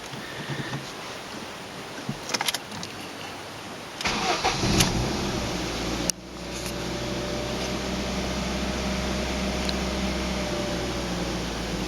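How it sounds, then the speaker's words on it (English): A Ford Focus 1.6 Zetec engine cranks and fires up, then settles into a steady, slightly high cold idle after throttle body work, loud and close. "Idling a little bit high, but that's obviously because it's got to get used to the new position"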